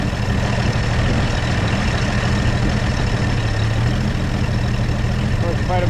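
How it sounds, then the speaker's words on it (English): An engine runs steadily with a little choke, its carburetion off, giving a continuous low rumble with no variation in speed. "Carburation issue here because it's running with a little bit of choke"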